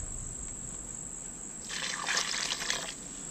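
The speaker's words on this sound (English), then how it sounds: "Alright, a little bit of water." A little water pours into a cement mix for patching concrete steps, a soft splashing trickle that swells for about a second and then fades, faint beneath a steady high-pitched hiss.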